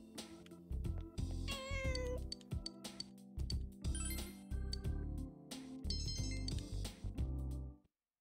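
A cat meows several times in Persona 4, its cries riding over game music with bright chiming tones, layered and fairly loud throughout before cutting off near the end.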